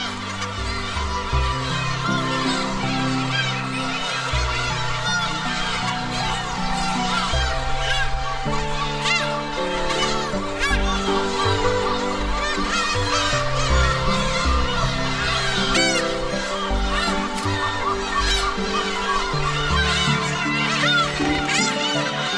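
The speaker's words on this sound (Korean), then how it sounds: "괭이갈매기 집단 번식지인 홍도는 이 시기 이곳저곳에서 교미를 하느라 시끌벅적합니다" Black-tailed gull breeding colony on Hongdo island during mating season, a dense, continuous din of many overlapping mewing, honking calls from birds near and far, loud and unbroken.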